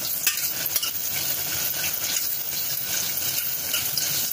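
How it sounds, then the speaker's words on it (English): Peeled garlic frying in a pan for a simple home remedy tempering, a loud, dense, continuous sizzle and crackle close up, with faint stirring and utensil clinks, no voices. "first of all, you add garlic, peeled garlic. After little fry,"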